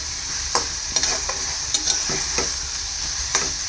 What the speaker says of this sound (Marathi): याला आणखीन एक दोन तीन सेकंड परतून घेऊयात